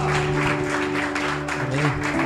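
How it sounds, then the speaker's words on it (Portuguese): Applause from a church congregation at a youth worship service, a dense continuous wash of clapping with sustained music or tones underneath. "E as palmas são para o Senhor Jesus."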